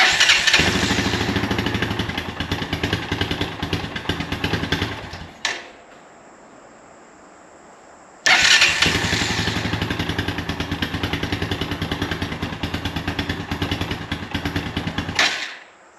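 An ATV engine runs on full choke with a loud, steady buzzing drone. It cuts off for about three seconds, then restarts and runs evenly again before shutting off.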